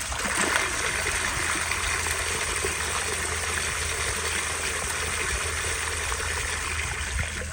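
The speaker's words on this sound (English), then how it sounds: "here is another flush" Water rushes steadily through a 10-inch miniature Berlin toilet prototype as it flushes, a continuous close splashing and gurgling that holds an even level throughout without pause.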